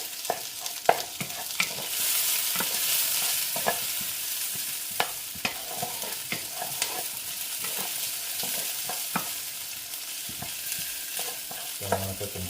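Garlic frying in a pan for chicken afritada: a steady, close sizzle runs throughout, punctuated by regular clicks and scrapes of stirring, with no voices.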